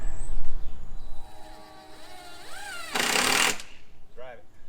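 A power drill drives a screw into a house's new gable end during an exterior renovation: one close, loud whir of about a second, with people talking before and after it.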